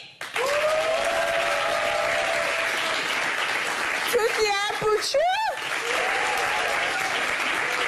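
Audience at a French comedy show breaks into sustained applause, a loud dense wash of clapping and cheers that runs throughout, while a performer's voice speaks over it and a few whoops rise in the middle.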